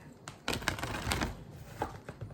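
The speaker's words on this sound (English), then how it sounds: "So let me go ahead and keep shuffling." Tarot cards riffle and snap in quick bursts, several brisk shuffling flurries close by with short pauses between them.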